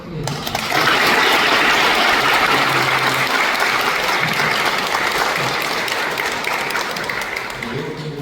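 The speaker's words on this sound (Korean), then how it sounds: "우리 환영의 박수 크게 해주시죠" Loud, sustained applause from a seated audience at a Korean religious studies society gathering, rising sharply after a brief moment and holding steady for several seconds before easing slightly near the end.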